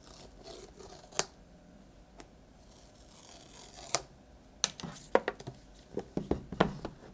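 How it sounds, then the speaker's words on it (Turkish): An iPad A16 box is opened, giving a few sharp isolated snaps and scrapes of cardboard and packaging followed by a quicker cluster of crinkles and taps, close and fairly clear with no talking. "Evet, şimdi kutumuzu açalım."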